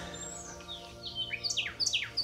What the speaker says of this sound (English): the sound of that, the birds are just amazing